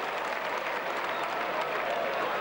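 Excited crowd at a 1987 rugby league match between Wigan and Castleford, a steady mass of applause and cheering filling the whole stretch under faint commentary.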